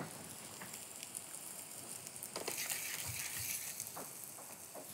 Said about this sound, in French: venir faire sauter nos champignons